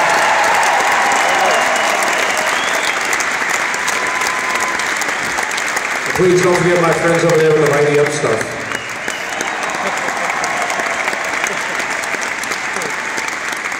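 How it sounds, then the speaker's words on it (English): Concert audience applauding the road crew: broad, sustained clapping and crowd noise, loud and continuous, with someone speaking over it on a microphone partway through before the applause carries on. "how about a round of applause for the incredible job our road crew does every single day"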